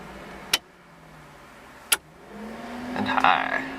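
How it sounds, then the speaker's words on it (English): Electric radiator cooling fan on a 1985 Toyota pickup with a 5VZ-FE engine swap starts on low speed, a faint rising whir that follows two sharp clicks and builds steadily toward the end. "let's test out the fan. Low, you hear it?"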